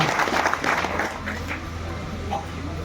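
Audience applause at a community programme about Adivasi people: a short burst of dense clapping that is loudest at the start and then tapers off over about three seconds.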